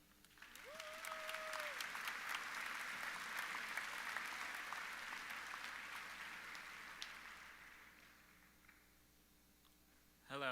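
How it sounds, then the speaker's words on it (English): Audience applause fills a high school graduation ceremony, a broad sustained wash of clapping from a large crowd that swells early, holds steady, then gradually thins out near the end. "Please give a round of applause for Hal Lamb."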